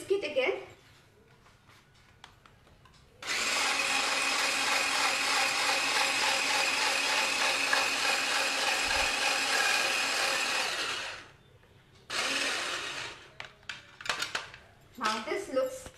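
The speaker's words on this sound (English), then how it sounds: "now we'll whisk it again" A whisk beats a mango brulee mixture in a bowl, making a steady, fast metallic clatter for about eight seconds, then a shorter second burst, with a voice talking before and after.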